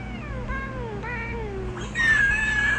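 A pet cat meows close by, a few drawn-out wavering calls that end in a louder, higher sustained yowl.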